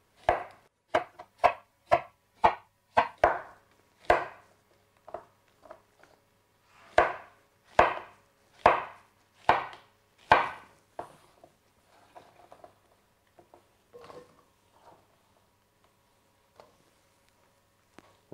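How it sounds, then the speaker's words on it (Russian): A knife slices steadily through zucchini on a board, cutting 1 cm rounds, a fast run of crisp, evenly spaced cuts that slows and grows softer toward the end. "Цукини необходимо нарезать толщиной 1 см"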